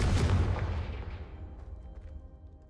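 A booming blast from the Confringo fire spell in Hogwarts Legacy, one loud close explosion at the start whose rumble trails away over a couple of seconds, with no voices.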